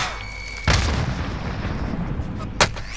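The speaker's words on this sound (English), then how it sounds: "Throw a nade." Warzone match: a sharp grenade blast lands, followed by a rumbling tail and a second loud gunshot crack near the end, all fairly close and prominent.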